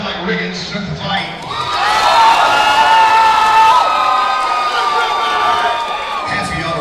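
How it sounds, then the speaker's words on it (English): Crowd at an Elevate MMA event bursting into loud cheering, whoops and applause, swelling quickly and holding steady for several seconds before easing slightly, with shouts scattered through the noise. "One round of applause."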